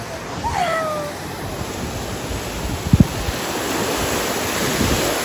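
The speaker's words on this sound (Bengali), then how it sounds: "এবার ঢেউ দেখো, সমুদ্রের ঢেউ" Sea waves wash onto a beach in a steady, broad roar with wind buffeting the microphone, a short bird-like chirp early on and a couple of soft thuds partway through.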